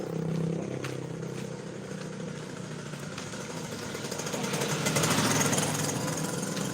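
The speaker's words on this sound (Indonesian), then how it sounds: "Oh, motor." Motorcycle engine running steadily outdoors, a mid-distance rumbling drone that grows somewhat louder toward the end, with no talking.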